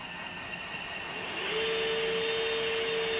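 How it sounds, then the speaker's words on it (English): A Roomba robot vacuum cleaner starts up partway through, its motor hum rising into a steady, loud whirring drone with a thin high whine that continues to the end. "why is the Roomba going?"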